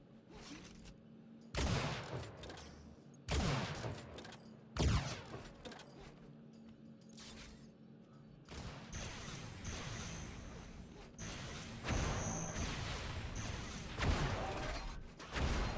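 Rocket launcher shots and explosions in Unreal Tournament, several sharp booming blasts at irregular intervals over continuous gameplay noise, some close and loud, others fainter.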